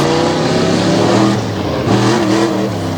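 Bronco-based race truck nicknamed Swamp Donkey, with a Jeep-style body, roaring loudly at a speedway as its engine holds high revs with slight dips and rises, close and continuous.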